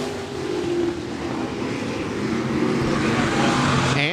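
Stock cars racing on the Park Jefferson Speedway oval during an Iron Man heat race, a pack of loud roaring engines swelling and overlapping as they pass nearby, continuous throughout.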